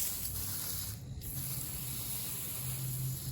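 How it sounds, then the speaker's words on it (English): An aerosol can of carburetor cleaner hisses as it sprays onto a Pit Boss pellet grill, a continuous, close, breathy spray with a low rumble underneath and no talking. "So now we're just going to spray this again."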